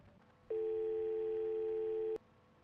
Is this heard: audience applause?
no